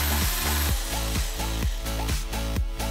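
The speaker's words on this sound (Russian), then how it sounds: "С помощью электродрели сделаем отверстие в центре." An electric drill bores a hole in the lid of a tin can, its loud whine rising and falling in repeated short strokes as the bit bites into the metal, close up and alone.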